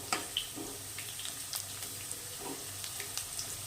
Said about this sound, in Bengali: আমি একটু হালকা পরিমাণে জল দিয়ে দেবো, যাতে আলুটা একটু সেদ্ধ হয়